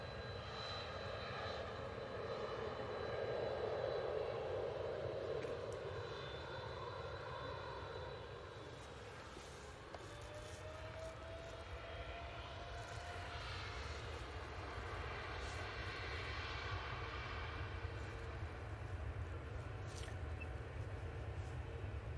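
A TUI Boeing 787-9 Dreamliner departing for Punta Cana gives a sustained, heavy jet engine roar from a distance, swelling and then holding steady for over twenty seconds.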